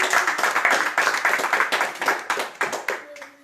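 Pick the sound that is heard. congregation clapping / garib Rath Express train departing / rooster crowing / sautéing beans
congregation clapping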